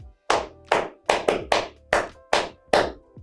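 Seven sharp hand claps in an uneven rhythm, close and fairly loud, each with a quick decay, and no voices in between.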